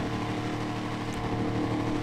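Slamvan truck engine in the GTA video game, fitted with a curved exhaust, holding a steady, loud rumbling drone with a slight rise in revs toward the end.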